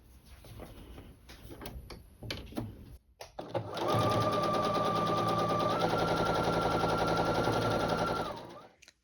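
Sewing machine stitching a quilt block seam: a few short bursts of stitching, then a loud, steady run of rapid needle clatter for several seconds before it stops.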